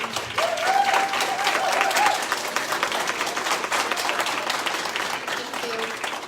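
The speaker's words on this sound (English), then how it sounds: "Can I get a round of applause for all of our candidates again?" A crowd applauds steadily for several seconds, dense clapping with a few voices rising above it.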